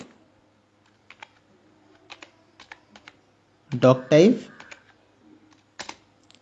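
Computer keyboard typing in Notepad while writing HTML code, scattered soft key clicks in short bursts, with someone speaking briefly in the middle.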